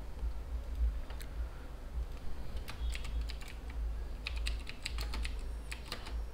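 Steady typing on a computer keyboard while text is entered during Drupal 7 site building, with scattered sharp key clicks in short bursts over a low constant hum, fairly close and moderately quiet.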